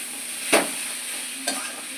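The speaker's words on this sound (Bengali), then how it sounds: "আলুটাকে আমি ম্যাশ করে করে দিয়ে দিচ্ছি এর মধ্যে আর দিয়ে এবারে একসঙ্গে আমি সমস্ত কিছু মিশিয়ে নিচ্ছি" Mashed boiled potato gets stirred into a cabbage chop filling, with two short, close scraping strokes of a spoon through the thick mixture over a faint steady hiss.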